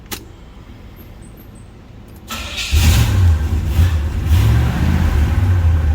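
A 1977 Pontiac LeMans engine fires up on a test ride after quiet background, then revs in a loud, rising and falling roar that swells twice, heard close without talk.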